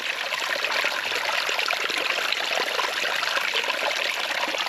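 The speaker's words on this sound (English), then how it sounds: "really pretty sound. Little creek that goes through here." A small creek running over piled rocks makes a continuous, even babble and trickle. The water sounds close and steady for the whole stretch.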